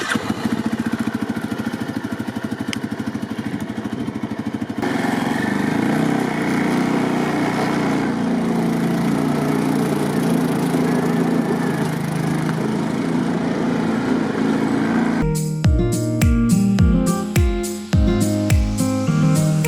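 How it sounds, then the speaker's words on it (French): A quad bike engine drives across a farm, a steady close motor drone that holds for about fifteen seconds before music cuts in. "après j'amène le quad et donc j'arrive au quad"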